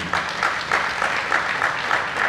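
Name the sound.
audience applause welcoming a speaker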